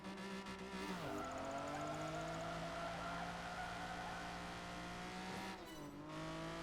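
A Lamborghini races through a street circuit in Project Gotham Racing 4, its engine whining and dropping as it shifts gear, with tires squealing and other cars nearby, loud and continuous.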